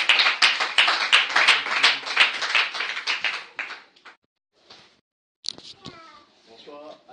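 A church congregation breaks into loud, dense applause acclaiming the Lord for a prophet. The clapping fades out after a few seconds, followed by a near-silent pause and then a few scattered voices.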